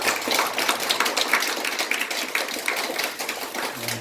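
Church debate audience applauding, a dense steady wash of many hands clapping at close range, continuous and even for about four seconds with no talk over it.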